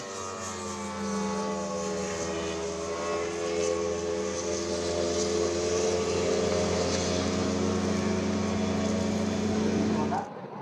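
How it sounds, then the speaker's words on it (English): A loud, droning engine roars steadily for about ten seconds as a fast ski race boat passes close by during a waterski race, then cuts off abruptly. "Joel Codling, Riley Fogarty, we've got a boat coming past us here."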